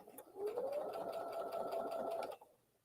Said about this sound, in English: So I am going to sew